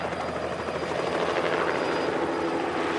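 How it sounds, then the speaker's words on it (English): A helicopter's rotor and engine roar loudly and continuously, a dense whirring drone that stays steady throughout. "None of you ever seen a helicopter before?"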